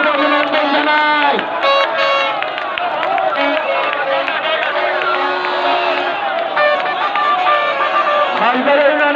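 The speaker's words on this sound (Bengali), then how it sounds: "আমরা করতালির মাধ্যমে তাদেরকে অভিনন্দন জানাই" Crowd noise at an election street rally in Dashmina, Patuakhali, as a large procession arrives, a steady loud mass of cheering, shouting and clapping with a voice over a loudspeaker and babble throughout.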